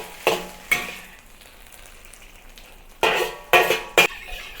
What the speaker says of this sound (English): I'm going to remove the noodles from the wok to continue cooking the vegetables